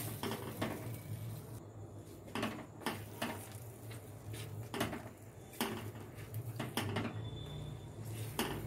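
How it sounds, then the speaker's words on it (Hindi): Kada prasad being stirred continuously in a pan over a low flame, with soft repeated scraping and clinking of a spoon against the pan, at a steady, moderately quiet level and with no voices. "इसे कंटिन्यूसली चलाते रहिए"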